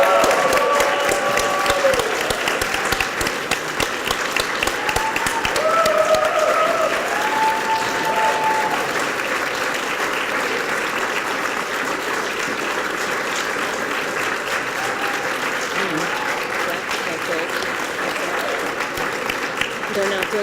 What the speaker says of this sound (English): Can we give a loud round of applause?